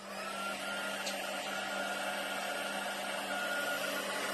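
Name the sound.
heat tool melting embossing powder on a card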